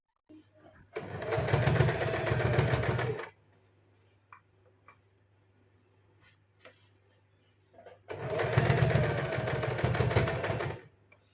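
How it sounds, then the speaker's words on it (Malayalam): Sewing machine stitching red thread over cut-piece fabric, two loud steady bursts of rapid whirring stitches separated by a quiet pause with light handling sounds. "ഇതിൻ്റെ മുകളിലൂടെ ഒരു പ്രസ് അടിപ്പ് അടിക്കുകയാണ് അത് ഇതേ കളറിൽ റെഡ് നൂല് വെച്ചിട്ട് തന്നെ തയ്ക്കണം"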